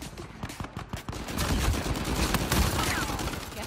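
Gunfire in an Uncharted 4 multiplayer match: a few sharp shots early, then a dense, continuous barrage of game sound with overlapping bursts and effects, fairly loud throughout.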